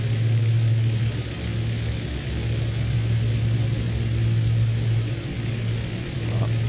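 Canadair water-bomber aircraft engine in Microsoft Flight Simulator 2020, a steady loud propeller drone with a strong low hum holding constant throughout, no voices.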